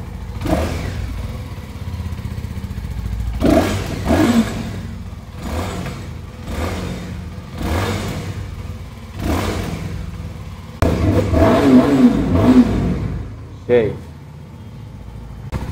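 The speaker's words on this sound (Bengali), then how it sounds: "নাকি একটু বাইকের সাউন্ডটা শোনাই কেমন হবে" A CF Moto SR250 motorcycle engine runs close by with repeated throttle blips rising over a steady drone, while someone talks over it for most of the stretch.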